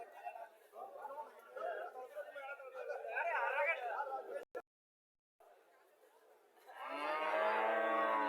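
Cattle at Mirshani cow market: voices chatter nearby for several seconds, then, after a brief silence, one cow gives a long, loud, close moo.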